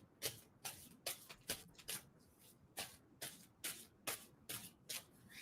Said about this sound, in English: I'm going to stop shuffling on that.